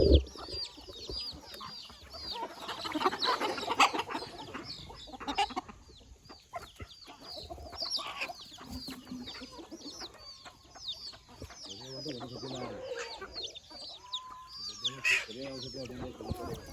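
Naked neck chickens and their chicks clucking and peeping, with a rooster-like call, busy and fairly close, layered with scattered chirps and background farmyard noise.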